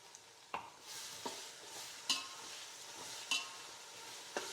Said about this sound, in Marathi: तो पण चांगला फ्राय करून घ्यायचा, म्हणजे परतून घ्यायचा चांगला